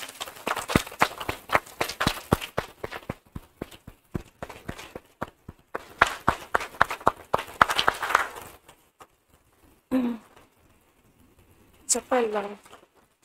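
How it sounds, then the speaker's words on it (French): An audience claps for a teacher at an honoring ceremony, with irregular, moderately loud handclaps for about nine seconds before a few short spoken phrases follow in the quiet. "je vous demande de se lever pour applaudir fortement notre cher maître"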